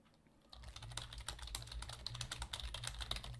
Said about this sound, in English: You hear my furious typing.